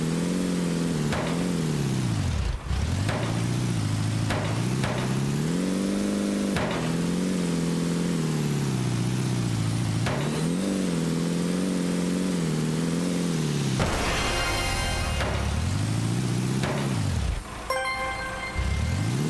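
Engine of a truck in a chaotic anime isekai driving video game, revving up and down repeatedly in loud sustained surges with brief drops between, alone without talk.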